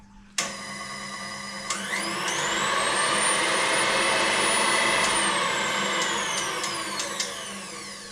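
A KitchenAid stand mixer motor starts with a click and runs at a steady, whining hum, rising slightly in pitch and staying loud and close throughout with no talk.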